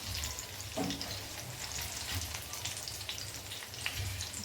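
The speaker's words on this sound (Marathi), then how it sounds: "अशा पद्धतीनं दोन्ही साइडनं अशी खरपूस भाजून घ्यायची, लाल अशी ब्राऊन होईपर्यंत" Pumpkin slices sizzle and crackle as they fry crisp in a pan, a steady close frying hiss with occasional sharper pops and stirring noises throughout, no voices.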